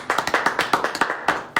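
A round of applause on a pub quiz podcast: a small handful of people clapping in a quick, fairly regular burst of about a dozen sharp claps, close and fairly loud, with no talk over it.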